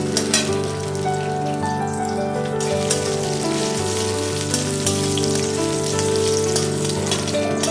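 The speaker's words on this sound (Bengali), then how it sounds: "কড়াটায় আমি গরম করে আবার একটু তেল দিয়ে দেব, দিয়ে যে কুচানো পেঁয়াজ ছিল সেটা দিয়ে কড়াতে ভালো করে ভেজে নেব" Chopped onions fry in hot oil in a wok, giving a steady, soft crackling sizzle throughout, mixed under a continuous musical background with no talking.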